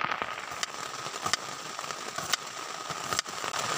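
Rain patters steadily on a tent roof during a camping trip, giving a dense, crackly hiss with occasional sharper taps, heard from inside the tent with no talking.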